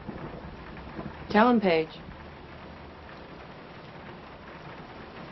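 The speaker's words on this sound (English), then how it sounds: "You're making her go out in a storm at this hour" Steady rain falls through a night storm, a constant hiss that runs the whole way, with a short spoken line from a person partway through.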